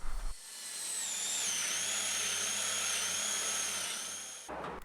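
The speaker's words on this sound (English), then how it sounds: "then drill the same size as the barrel using my step drill" A step drill bores a hole through a box for a workshop pencil sharpener. After a short start, the drill holds a steady high whine for about four seconds, then winds down.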